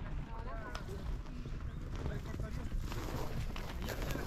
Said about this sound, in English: Are these actual cowboys wrangling a herd of horses?